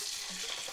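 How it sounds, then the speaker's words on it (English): Loud, continuous sizzling and crackling of meat frying in hot oil for Bulgarian kapama, close up, with no talking. "Listen to that sound. That's sizzling."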